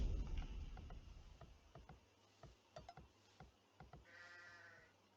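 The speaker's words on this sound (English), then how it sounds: "There's a lot of sheep in this map." Several short sheep bleats from Age of Empires II HD, scattered and clipped, over a faint low hum, with a longer bleat near the end.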